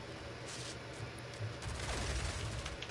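Gunfire from a sniper in a shooting video game cracks out in several bursts over steady game noise, moderately loud and close.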